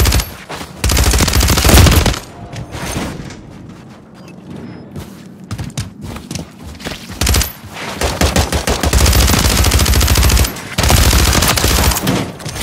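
Rapid automatic gunfire and bursts of shots in a video game shootout, loud and dense, with a brief lull near the middle before heavy firing resumes.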